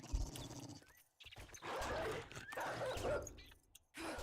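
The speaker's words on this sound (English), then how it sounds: "I heard that dog." A dog in the video game 7 Days to Die gives a few rough barks and yelps amid game noise, moderately loud and close.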